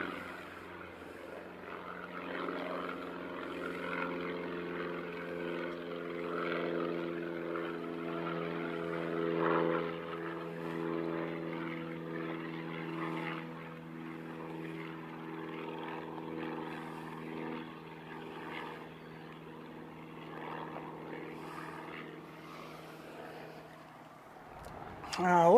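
An ATR turboprop airliner at Christchurch Airport gives a droning propeller hum with layered steady tones, moderately loud and sustained, while a voice talks intermittently over it.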